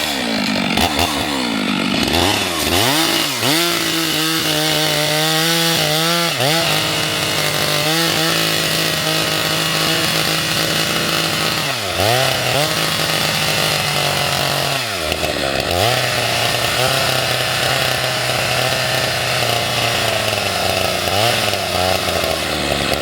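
Chainsaw with a 28-inch bar cutting through a felled tree, a loud continuous engine whine that rises and falls as the throttle revs and the bar bites into wood, close and sustained.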